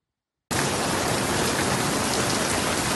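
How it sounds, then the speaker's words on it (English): Torrential rain pouring down during a storm with gale-force wind in Italy, a dense, steady roar of water that starts abruptly and continues loud and unbroken. "Torrential rain, accompanied by gale force wind, battered the region"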